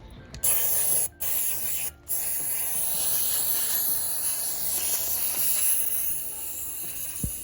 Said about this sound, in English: You think it'd be okay just to squirt the Berryman's right in there?